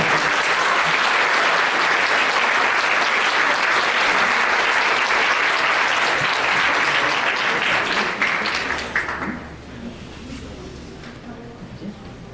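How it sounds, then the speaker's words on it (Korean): A crowd at a wedding ceremony in a hotel applauds steadily and loudly for about nine seconds, then the clapping fades to a few scattered claps and room noise. "다시 한번 두 사람을 위해 축복의 박수를 보내주시기 바랍니다"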